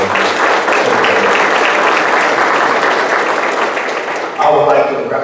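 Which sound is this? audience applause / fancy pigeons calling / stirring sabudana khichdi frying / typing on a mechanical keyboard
audience applause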